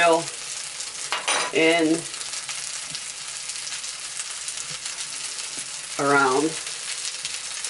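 Haddock pan frying in coconut oil gives a steady, close sizzle throughout, with a few brief spoken words breaking in over it.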